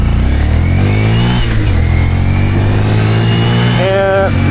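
Night ride on a Honda Grom motorcycle with its mid-pitched engine droning steadily up close, joined by passing traffic; a short tonal horn-like burst sounds near the end.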